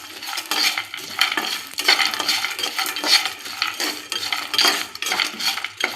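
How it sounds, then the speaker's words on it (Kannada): Almonds and sugar are stirred and roasted in a pan over a low flame, with repeated scraping strokes of a metal spoon against the pan under a soft sizzle, close up and rhythmic, with no talking. "ಅದಕ್ಕೆ ಲೋ ಫ್ಲೇಮ್ನಾಗ ಇಟ್ಟು ಹುರಿಬೇಕ್ರಿ"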